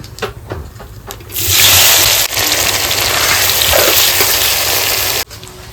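A loud sizzling hiss erupts suddenly as onions hit hot oil with bay leaf, dried chilli and cumin, holding steady for several seconds before cutting off.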